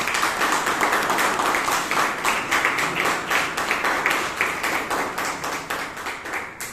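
A room of people at a Toastmasters meeting in Bangalore applaud steadily, a dense, close wash of clapping that holds throughout and thins slightly toward the end.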